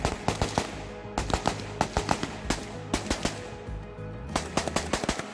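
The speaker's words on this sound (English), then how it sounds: "The bullets travel flat at long distances and the rifle itself stays flat after every shot." A modernized Zenitco AKS-74N rifle fitted with a DTK-1 compensator fires repeated sharp shots in quick bursts and strings, each crack distinct and punchy with short gaps between groups, with no talking.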